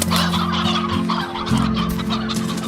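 A hen in the video game Slime Rancher clucks and squawks loudly and continuously up close, a busy run of fowl calls with no talking.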